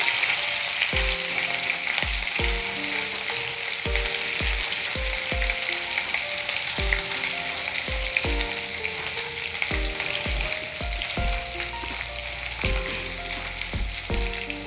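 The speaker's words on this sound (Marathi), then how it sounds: "तर याला ना चांगलं तेलावर परतून घ्यायचं आपल्याला, असं भाजून घ्यायचं तेलामध्ये छान" Curry leaves and spices fry in oil with a continuous loud, bright sizzle, while soft low taps from stirring recur irregularly underneath. The sound holds close and steady throughout, with no talking.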